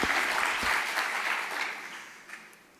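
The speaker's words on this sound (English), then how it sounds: "Please give a warm round of applause to Jon Iwata." An audience at the European Communication Summit gives steady, moderately distant applause for IBM executive Jon Iwata, which slowly fades.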